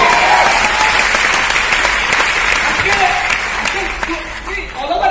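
Audience applause at a speech, dense and loud, a steady wash of many hands clapping that fades slightly toward the end, with some voices mixed in.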